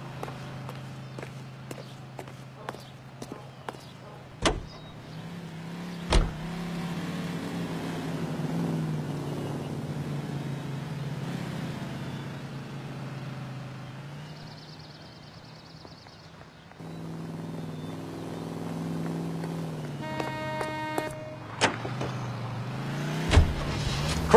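A car drives in L.A. Noire, its steady engine hum holding throughout at a low, even drone, broken by a few sharp clicks and thumps and some rising tones.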